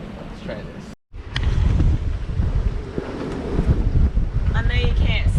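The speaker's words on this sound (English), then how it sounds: "I'm hoping you can hear the sound of the wind coming through the rigging." Wind rushes and buffets past a microphone aboard a sailboat under way on the Caribbean Sea, a steady loud roar with gusts, faint whistling from the rigging and a brief dropout near the start.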